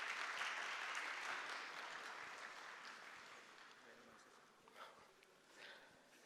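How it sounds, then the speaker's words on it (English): Applause from an audience at a music event, fairly faint and fading over several seconds, with scattered claps trailing off near the end. "So, Mr. Yusuf, some applause would be nice."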